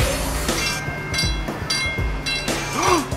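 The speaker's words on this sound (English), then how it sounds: "Mike thinks his car is fast enough to beat the train." A train closes in on a car at a crossing, its wheels beating out a rhythmic clatter of repeated heavy thumps over a droning rumble, with a rising squeal near the end.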